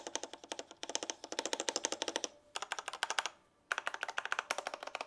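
Rapid clacking keystrokes on a budget mechanical keyboard, close and fairly loud, in continuous bursts with two brief pauses. No talking.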